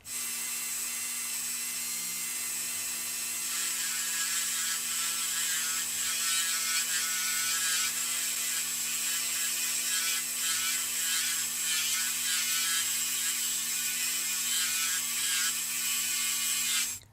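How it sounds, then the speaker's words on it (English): A small rotary burr grinds steadily against a freshly drilled post on an old Hot Wheels car, a continuous high whirring hum that persists loudly and evenly throughout. "I'm going to get a little burr, and I'm going to just clean up this post now that it's drilled"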